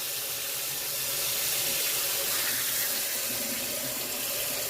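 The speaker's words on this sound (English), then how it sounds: "That water just run all through" Water pours steadily and loudly from a tap through a colander, rushing and splashing in a continuous hiss without a break.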